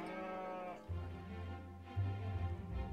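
Sheep bleating on a Tuscan farm, several loud, drawn-out bleats close by, one following another with a brief gap between calls.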